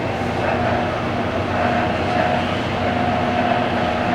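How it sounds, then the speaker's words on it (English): A Monarch 10EE toolroom lathe runs at low speed with a loud, steady mechanical rumble and a faint constant tonal whine, even and uninterrupted from start to finish. "It's 100 RPM."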